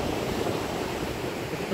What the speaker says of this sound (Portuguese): Como é bonito que é o oceano!